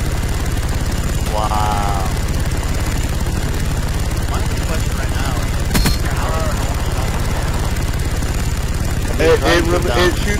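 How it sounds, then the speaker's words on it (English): A friendly jet aircraft killstreak in the Call of Duty game Havana map, a loud, continuous engine drone under constant gunfire and game effects, with a player's voice talking briefly over it. "Friendly jet package on the way."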